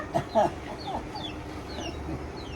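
A chicken in the Philippines gives a few short, nearby clucks early on, then the sound settles into soft background noise with scattered faint chirps.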